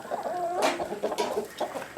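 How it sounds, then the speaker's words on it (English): Homestead chickens cluck and chatter close by, with several short overlapping calls and a few sharper squawks scattered over a quiet background. "I want to get these chickens fed"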